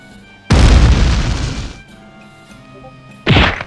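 A loud, close explosion booms in a video game, a sharp blast that rumbles away over about a second. A second burst follows a few seconds later.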